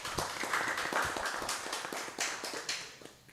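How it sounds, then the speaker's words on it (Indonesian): A TV studio audience at a regional Banyuwangi broadcast claps in a dense, steady patter of many hands, fairly close, with a few sharper claps standing out and no speech over it. "Tepuk tangan yang meriah untuk kita semuanya"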